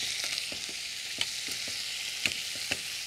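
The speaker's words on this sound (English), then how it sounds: "And now I'm going to add my tomatoes here." Tomatoes are added to a hot pan of Indian-spiced potatoes with asafoetida and sizzle softly in a steady low hiss, with a few faint stirring clicks and no voices.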